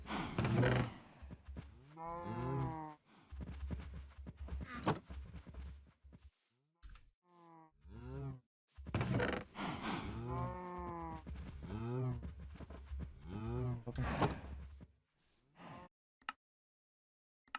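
Minecraft video game cows moo repeatedly in long, drawn-out lowing calls, several in a row, with brief gaps and a few softer calls between the louder ones.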